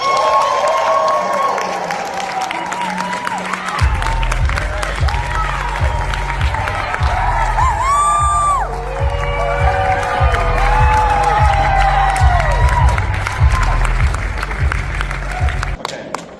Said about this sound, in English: can I get a big round of applause and a welcome